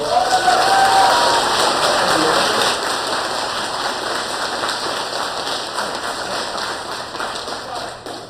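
Audience at a Massachusetts FTC robotics kickoff event hosted at Weston Community School gives a big hand, a dense steady wash of clapping and cheering that starts loud and gradually thins out over several seconds.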